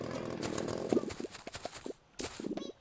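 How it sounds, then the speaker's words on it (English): A chainsaw used as a blender in a horror-style smoothie video game buzzes in short revving bursts with choppy pauses and a brief silence, fairly quiet and without talk. "put it in the chainsaw, and we have our smoothie"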